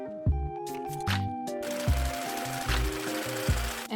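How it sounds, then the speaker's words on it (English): A sewing machine runs in short bursts, stitching a rounded fabric edge flat on a puff-sleeve top, with quick mechanical rattles separated by brief pauses and handling thumps, close and fairly loud. "Then I'm sewing the rounded edge flat down again."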